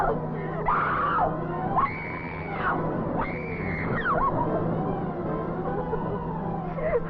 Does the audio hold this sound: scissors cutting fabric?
no